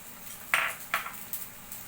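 Chopped onion tipped into a pan with a spoonful of oil for corn capsicum masala, giving one soft clatter and a couple of lighter knocks of utensil on metal, faint and close, with no voice.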